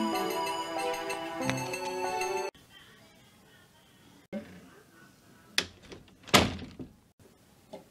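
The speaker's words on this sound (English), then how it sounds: "Open, stupid door." After a stretch of music cuts off, a door is tried and rattled in a few sharp, separate knocks and thumps, close and loud against a quiet room.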